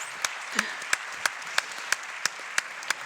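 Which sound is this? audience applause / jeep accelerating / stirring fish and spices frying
audience applause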